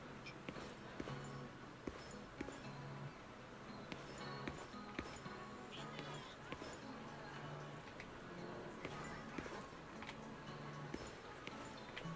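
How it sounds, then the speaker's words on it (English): A character in Zenless Zone Zero walks along in quick, evenly spaced footsteps that tick faintly and steadily under background music for the whole stretch. "the footstep sounds"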